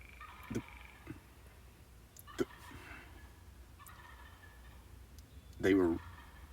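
Wild turkeys gobble in the spring season, several brief bursts scattered across the clip, mostly distant with one louder, closer gobble near the end over quiet outdoor ambience.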